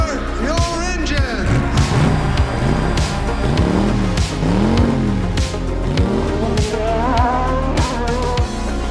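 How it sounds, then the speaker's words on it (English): A race car engine revs and roars with swooping rises and falls in pitch, loud and continuous for the full stretch, layered over a steady backing with possible voice. "Drivers, start your engine!"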